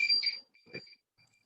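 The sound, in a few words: beep during online presentation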